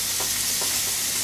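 Pork ribs searing on a hot oven setting for a McRib-style baguette give off a steady, close sizzling hiss that runs unbroken throughout, with no voices.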